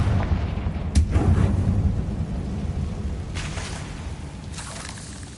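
In Hogwarts Legacy, a Confringo explosive spell produces heavy booming blasts over a continuous loud rumble, with sharper bursts landing several times in quick succession.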